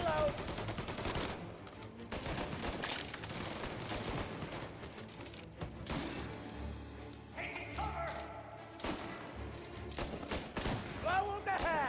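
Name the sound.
gunfire in the video game Mafia Definitive Edition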